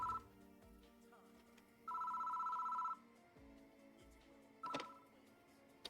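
A telephone ringing in the horror game Death Mark, two or three separate bursts of ringing with pauses between them, fairly loud over a low ambient game backdrop.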